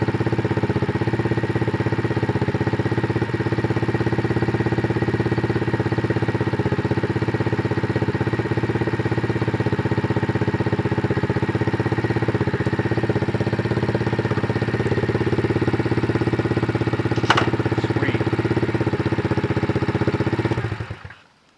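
Idle of a freshly assembled Apollo 125cc dirt bike, a steady close single-cylinder putter that holds even for about twenty seconds, then cuts off abruptly, with no talk.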